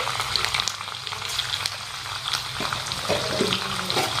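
Ginger garlic paste and green chillies sizzle in hot oil while being stirred, a steady close frying hiss with small spatters and scraping, no talking.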